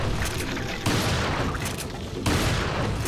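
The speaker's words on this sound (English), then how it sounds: "Using every goddamn shotgun shell I have on these motherfuckers." Shotgun fire in the video game Resident Evil 4, a dense, loud burst of repeated booming blasts in quick succession that fills the whole clip.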